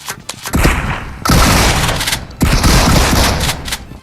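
Gunfire in PUBG Mobile with bullets striking through a wall, heavy clustered bursts in two long loud stretches separated by a brief pause, close and forceful.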